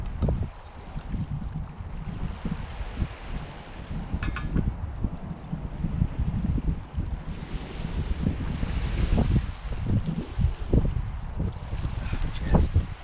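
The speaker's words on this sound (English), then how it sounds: "Chilling out on the beach, listening to the waves" Waves roll and wash onto a beach at Deganwy in North Wales, a continuous surf with irregular surges and wind buffeting the microphone.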